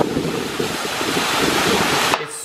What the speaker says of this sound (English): a waterfall makes a lot of noise